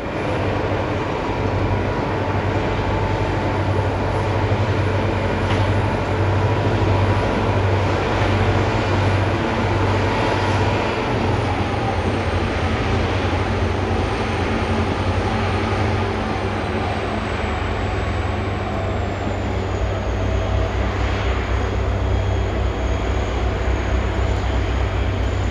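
Reading & Northern 425 deadhead passenger excursion train rolling past on a Conrail-built connection track in the Anthracite Region, a continuous loud low rumble with steady wheel and rail noise throughout.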